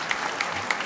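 Michigan fans at a men's gymnastics meet give a short burst of applause for a Penn State gymnast after a tough fall, scattered distant clapping heard faintly in a large arena.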